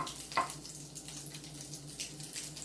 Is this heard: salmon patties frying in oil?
yes